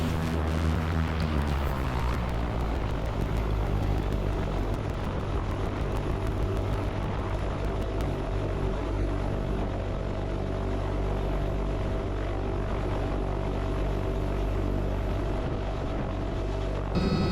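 Small propeller airplane taking off from a jungle airstrip, its engine drone loud, close and steady throughout with a rising harmonic whine early on, and no talking.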